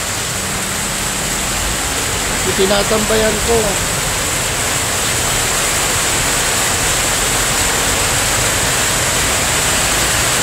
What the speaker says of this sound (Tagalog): Ulan ulit ngayon dito.